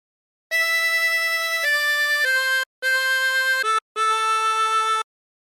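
A 16-hole tremolo harmonica plays Nearer My God to Thee in a slow phrase of sustained wavering reedy notes, with brief gaps between some of them, close and clear with no talking.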